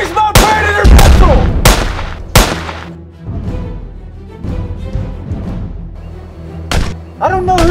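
Sharp pistol gunshots crack out in a movie trailer, several loud isolated blasts spaced irregularly, mixed with thuds and dialogue voices over a music-and-effects bed.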